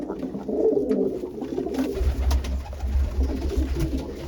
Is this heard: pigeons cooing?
yes